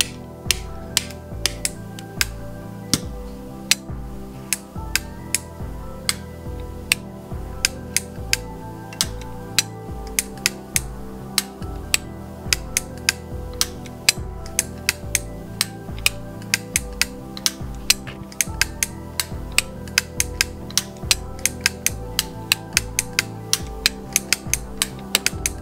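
Buster and Punch light switches from the English brand click sharply over and over, crisp close snaps repeating at an uneven, quickening pace over steady background music.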